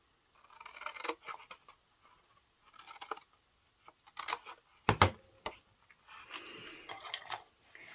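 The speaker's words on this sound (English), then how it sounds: "just going to cut to the first perpendicular score line" Scissors cut through scored paper for a spring craft basket, making several short, crisp snips in separate bursts with quiet pauses between them, close and clear.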